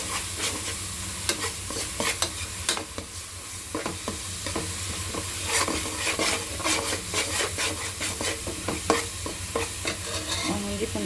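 Ginger garlic paste sizzles in a pan after the onions have softened. A steady close fry hiss carries on throughout, broken by frequent scraping stir strokes and small pops.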